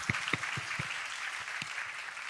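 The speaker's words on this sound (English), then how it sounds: "Let's clap for them." Audience of young people clapping at a Ghanaian school freshers' orientation: a handful of distinct, fairly soft claps over a quiet murmuring room rather than a full ovation.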